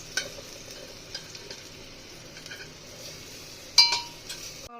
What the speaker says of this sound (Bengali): আমরা সব উল্টে পাল্টে দিয়েছি।